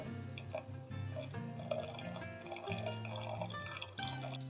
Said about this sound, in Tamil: வெல்லம் நல்லா கரைஞ்சிடுச்சு. ஃபில்டர் பண்ணிக்கிறதா ஃபில்டர் பண்ணிக்கலாம்.